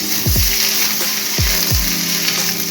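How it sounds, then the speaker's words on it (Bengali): Sliced bitter gourd and potato fry with dried red chilli in a little oil, a constant hiss of sizzling broken by several quick swooping scrapes of a utensil against the pan, with no voices. "তো উচ্ছে আর আলু ভাজা করছি,"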